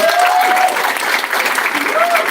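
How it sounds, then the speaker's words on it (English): A crowd at an outdoor rally supporting fired hospital doctors breaks into loud, sustained applause, dense and continuous throughout, with a few whoops rising over the clapping. "big huge round of applause for Sue."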